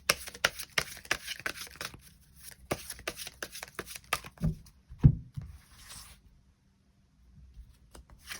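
Tarot cards shuffled and riffled by hand in rapid, uneven bursts of papery flicks and taps, fairly close, with a couple of firmer thumps before the handling quiets to near silence.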